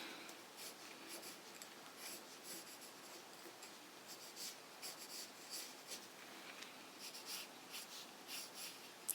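A pen draws shapes on paper up close in quiet surroundings, with repeated short scratchy strokes coming in irregular bursts and no voices.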